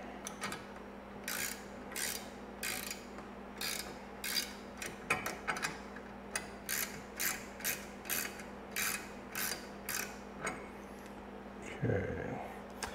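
Socket ratchet tightening an awning mount bracket on a Ford Raptor: steady, evenly spaced bursts of close clicking, about one per second, repeated a dozen times with a low background hum.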